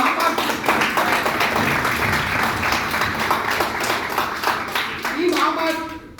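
Loud, dense applause from a crowd at a tournament gathering, many hands clapping continuously and evenly before tapering off near the end, with a voice briefly emerging as it fades.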